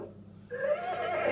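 A toy horse gives a short, high, quavering neigh that starts after a moment of near quiet and rises into a bright whinny, faint and alone.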